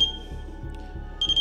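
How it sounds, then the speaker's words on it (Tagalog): A REM pad ghost-hunting sensor set in a hotel hallway gives short electronic alarm beeps near the start and again near the end, over a steady low hum of background noise. "mag-a-alarm siya pag may oras na may lumapit dito."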